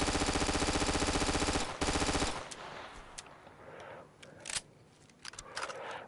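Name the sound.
submachine gun firing in video game Easy Red 2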